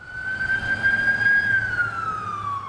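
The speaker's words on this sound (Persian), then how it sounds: "صدای آژیر آمبولانس برای ساکنان نیویورک عادی شده" An ambulance siren wails on a New York street, a loud, close, sustained tone that holds steady and then slowly falls in pitch over low traffic rumble.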